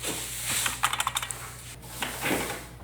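An old, broken typewriter tapped in a room under renovation, a quick run of about eight sharp key strikes followed by a few scattered clacks, close and alone.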